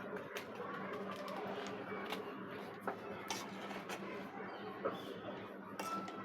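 Pieces soaking in yogurt stirred gently in a bowl, producing soft, close clinks and scrapes of a utensil against the dish over a steady low background, with a few sharper taps.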